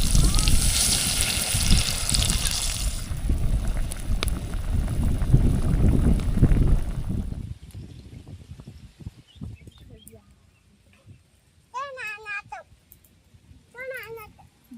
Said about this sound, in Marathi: पाणी टाकते आता थोडं.